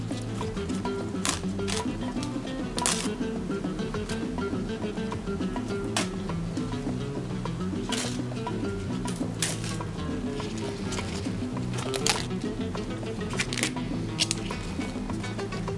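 Collard greens being torn from their stems and chopped finely on a cutting board in a home kitchen, with scattered crisp tearing and knife taps over a steady low background hum, no talking.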